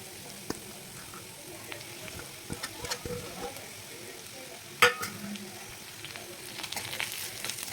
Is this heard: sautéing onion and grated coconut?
yes